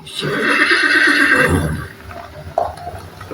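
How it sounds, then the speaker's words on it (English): A skewbald or piebald horse gives a loud, close whinny lasting over a second that trails off, followed by a short snort and faint background noise. "He looks like an Apache's horse. It's either a skewbald or a piebald."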